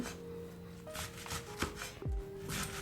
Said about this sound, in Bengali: শাকটাকে ভালো করে বেছে তারপরে ধুয়ে এইভাবে শাকটাকে একদম মিহিন করে কেটে নিলাম